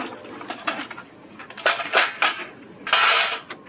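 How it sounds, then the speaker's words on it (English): Pots and pans clank and clatter as they are handled in a storage unit, giving a string of irregular metallic knocks and rattles, some sharp and close, with no voices. "Pots and pans."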